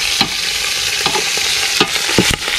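Pork frying in hot garlic oil in a pan, a steady loud sizzle with several sharp scraping clicks as it is stirred.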